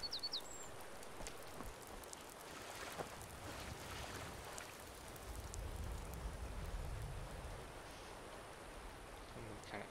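Rain falls steadily in the video game Skyrim, a faint wash of soft patter and drips with low rumbling swells, heard alone without talking.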